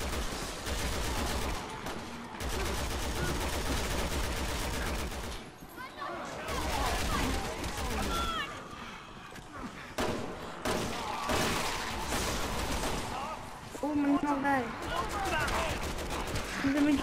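Resident Evil 6 gunfire comes in repeated bursts of loud shots and thuds over a dense game soundscape, with someone talking in between.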